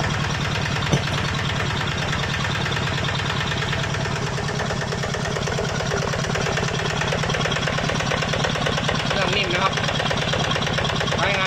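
A small Magnum RT 155 diesel engine of 15.5 horsepower idles steadily nearby, a constant low rhythmic chugging with a slight knocking texture throughout.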